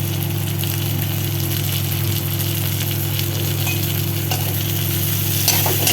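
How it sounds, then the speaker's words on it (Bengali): Sliced beans and chopped onion sizzle in hot oil in a pan, a continuous even frying hiss over a low steady hum, with no voices. "একটু কটা বিনস দিয়ে দেবো লম্বা লম্বা করে কেটে"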